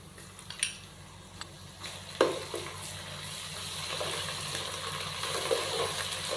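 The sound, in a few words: ginger garlic paste stirred into frying onions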